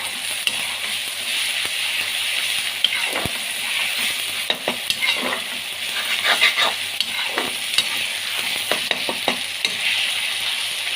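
Ginger garlic paste and tomatoes fry in a hot pan, with a steady close sizzle and repeated scraping stir strokes throughout.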